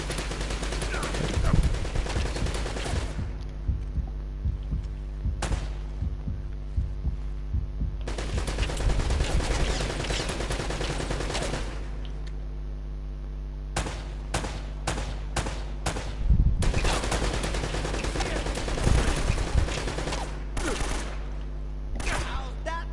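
Gunfire in the video game Uncharted: Drake's Fortune, repeated bursts of shots in clusters separated by short quiet gaps, fairly loud over a steady low hum.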